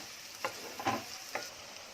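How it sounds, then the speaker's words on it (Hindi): Finely chopped onion frying in hot ghee, a soft steady sizzle with a few brief stirring scrapes, faint and close. "अपना घी गरम हो गया, इसमें जा रही है प्याज बारीक कटी हुई।"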